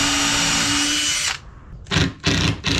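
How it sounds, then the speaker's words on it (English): A power drill driving screws into a 2x2 lumber cleat for a 2x4 bed frame: one long, loud, steady whine that stops, then two shorter bursts close by, with no talk. "I just did a few screws first"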